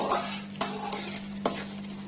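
A tamarind mixture for hunase chitranna sizzles and bubbles steadily in a pan as it cooks down in oil, with a couple of faint stirring scrapes, close and quiet.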